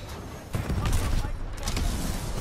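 Gunfire in the video game Titanfall 2: a burst of several rapid shots with booming impacts, fairly close and loud over a background game din.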